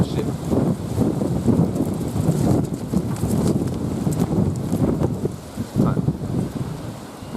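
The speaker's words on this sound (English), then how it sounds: "excuse me for the wind and all of that" Outdoor wind buffets a microphone, a loud, continuous rumbling roar with gusty fluctuations throughout, no clear speech over it.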